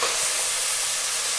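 Finely chopped onions sizzle in hot oil for a chicken thenga varutharacha curry, a steady broadband frying hiss throughout, close and even, with no talking.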